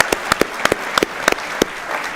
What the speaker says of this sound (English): Give it a clap